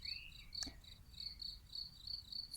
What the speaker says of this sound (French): des grillons.